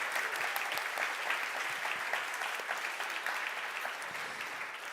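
Sustained audience applause fills an energy-transition award ceremony, a dense, steady wash of many hands clapping at even loudness throughout.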